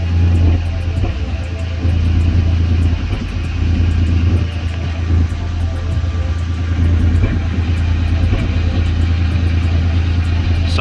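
Toyota 80 series Land Cruiser, warmed up and running rough, idles close to the exhaust with a steady loud rumble, broken by an occasional miss every few seconds.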